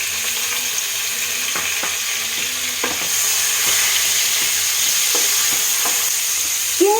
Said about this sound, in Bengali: তেলটা গরম হয়ে গেলে আমি ওর মধ্যে দেব নুন হলুদ মাখানো কিছু চিংড়ি মাছ